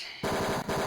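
Gunshots in the game Tex Murphy: Mean Streets, a brief loud burst of rapid retro-style firing with a short break in the middle.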